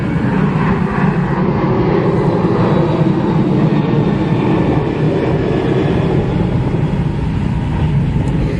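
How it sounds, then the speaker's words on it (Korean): An airplane passing over near an airport, a loud, steady broadband roar that holds without a break throughout, with no talking. "여기가 공항하고 가까워서 어, 비행기 소리가 잘 나요."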